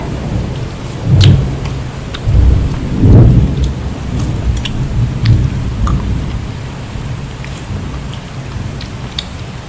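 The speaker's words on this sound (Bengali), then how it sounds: "কিভাবে মেঘ ডাকছে।" Deep thunder rolls and rumbles in several swells over a constant hiss of rain, with scattered sharp drips nearby.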